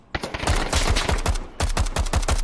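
Rapid automatic fire from an AKM 7.62 rifle in the VR shooter Onward, two loud close bursts of evenly spaced sharp cracks separated by a short pause.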